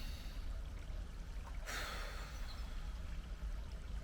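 A single deep inhaled breath taken during a morning breathing exercise, a brief airy rush in the middle of an otherwise quiet, low-rumbling room.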